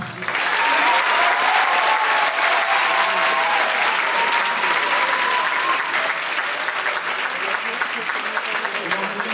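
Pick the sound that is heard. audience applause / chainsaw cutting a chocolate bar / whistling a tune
audience applause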